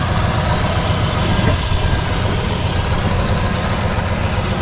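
A 1989 Jeep Wrangler YJ engine idles smoothly and steadily, a close, continuous low rumble with a faint rattle, no voices over it.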